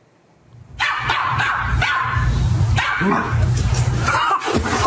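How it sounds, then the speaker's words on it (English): A chihuahua barks repeatedly at another dog in a quick, loud run of sharp yaps and a few whimpering yips, close by and continuing without a break. "That little chihuahua getting up in that dog's face"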